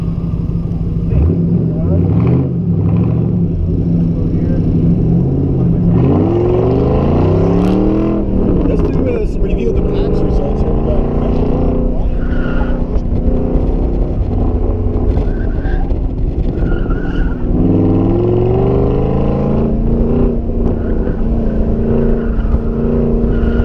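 A Ford Mustang driven on a race track at a car event, its engine loud and close as it repeatedly revs up and down through gear changes, with a tire squeal and a voice talking underneath.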